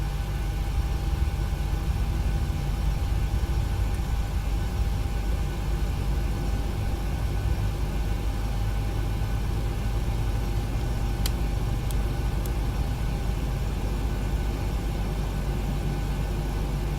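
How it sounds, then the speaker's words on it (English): Engine 1 of a Boeing 737 starts up in the PMDG add-on for the FSX flight simulator, heard as a steady droning whine with a low hum that stays constant throughout. "Now we'll start up engine 1."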